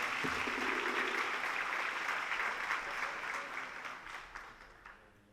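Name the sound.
applause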